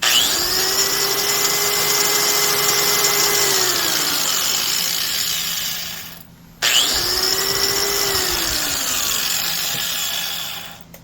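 A corded Milwaukee 4-1/2 inch small angle grinder, rated 10,000 RPM, spins up with a rising whine, runs steadily and winds down, then is switched on and run again, loud and close.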